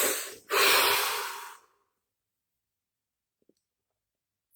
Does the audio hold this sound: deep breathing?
yes